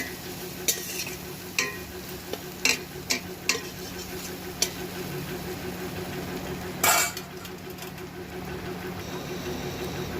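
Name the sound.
onions frying with turmeric and salt in pan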